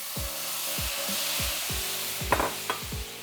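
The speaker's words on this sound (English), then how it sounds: "you wanna make sure you keep whisking to break up the clumps as you go" A whisk scrapes and stirs broth into gravy in a pan in repeated rhythmic strokes, with a faint sizzle underneath and a couple of light clinks.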